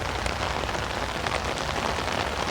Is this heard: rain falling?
yes